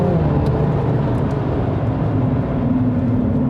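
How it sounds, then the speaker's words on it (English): A Mini John Cooper Works GP accelerating out of a corner on the Nürburgring racetrack drones loudly and steadily, a sustained mechanical roar with a rising tone toward the end. "we can accelerate out of the corners very well"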